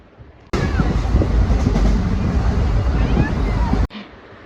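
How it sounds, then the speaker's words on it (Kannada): Railway station ambience: a loud, dense roar of rumbling noise starts abruptly and holds for about three seconds before cutting off, with faint voices mixed in. "ರೈಲ್ವೆ ಸ್ಟೇಷನಲ್ಲಿದ್ದೇವೆ."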